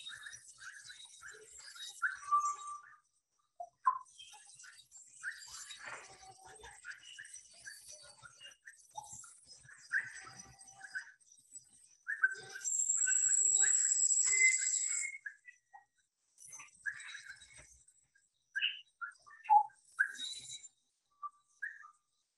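Crested oropendola calling in the Peruvian Amazon: a string of short liquid whistles and gurgling notes, with a sustained bright buzzy phrase in the middle, set among other faint forest birds and insects.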